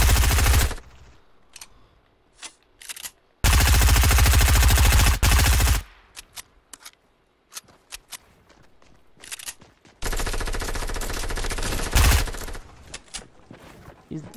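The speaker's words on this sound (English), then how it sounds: "Shoot at them with me so they can run out of that." Video game gunfire comes in long, loud, dense automatic bursts split by short gaps with scattered single shots, while players talk over the action.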